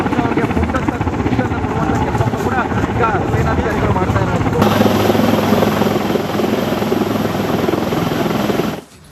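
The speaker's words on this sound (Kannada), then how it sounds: "ಸೇನೆಯಿಂದ ಹೆಲಿಕಾಪ್ಟರ್ ಮೂಲಕ ಕಾರ್ಯಾಚರಣೆ" An army helicopter flies a rescue operation after deadly landslides in Mundakkai and Chooralmala, Kerala. Its rotor throbs loud and continuous throughout.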